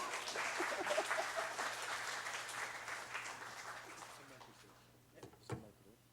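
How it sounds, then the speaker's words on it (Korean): Church audience applause welcoming a missionary, a fairly distant wash of clapping that is strongest at the start and gradually tapers off, followed by a couple of sharp knocks and faint voices near the end. "우리 박수로 환영하십시다"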